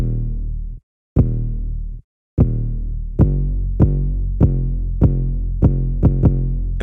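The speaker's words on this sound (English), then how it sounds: "Next to that, we have the 808," A deep 808 bass in a trap beat booms out alone, long sustained notes at first after short gaps, then a steady run of punchy repeated hits, loud and close.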